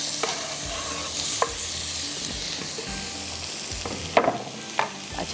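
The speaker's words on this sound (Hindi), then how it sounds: "हरी मिर्चें ये भी चली जाएंगी इसी के अंदर" Green chillies and onions fry in a hot pan, a steady close sizzle with occasional scraping stir strokes and a few sharper clinks, no voices.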